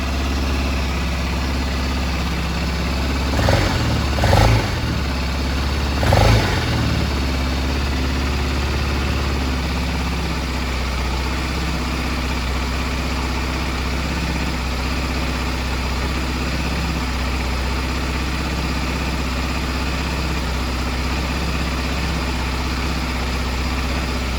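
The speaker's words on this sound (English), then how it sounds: "Okay, engine running." A BMW F650 motorcycle engine idles with a low, even rumble throughout, with a couple of brief louder bumps near the start.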